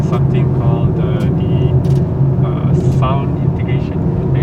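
BMW 330i M-Sport 2021 G20 exhaust note under braking, a steady low engine rumble close by and loud throughout, with people talking over it.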